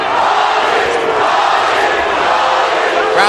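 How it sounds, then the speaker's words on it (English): Boxing arena crowd chanting a fighter's name, a loud, dense roar of many voices rising in rhythmic waves throughout, with no single voice standing out. "Crowd chanting, Paulie, Paulie, Paulie."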